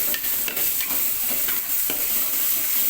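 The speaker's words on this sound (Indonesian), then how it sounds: "Bumbu yang kita tumis" Spice paste for beef rendang stir-fried in a pan, giving a steady close sizzle broken by repeated scraping strokes of the spatula, with no talking.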